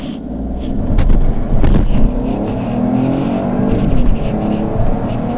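A Peugeot 308 GT 1.2 PureTech with EAT8 automatic accelerates hard from a standstill, engine loud and close, with rising roar and brief surges in intensity.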